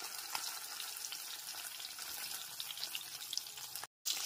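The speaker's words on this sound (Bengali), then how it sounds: "মাছগুলো দেওয়ার পর কিন্তু বেশিক্ষণ ধরে ভাজবো না।" Pabda fish, rubbed with salt and turmeric, fry in hot oil in a pan, giving a steady, dense sizzle and crackle throughout with a brief dropout near the end and no voices.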